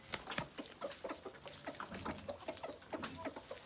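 Several chickens cluck and chatter close by in quick, irregular bursts, with no one speaking.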